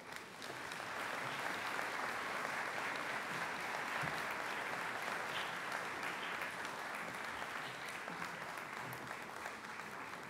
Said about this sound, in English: Please give them a round of applause as they come up on stage